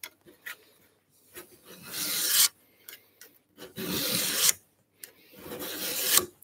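A hand file rasps along the edge of a garden tool clamped in a vise during sharpening, in three long bursts of steady rough scraping separated by short pauses and lighter strokes, close and loud with no talk.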